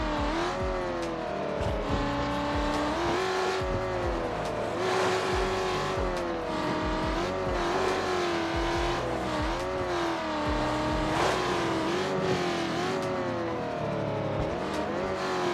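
A car engine drives steadily in a video game, holding a continuous revving drone that climbs and dips with gear changes, with occasional tire squeal, and no talking over it.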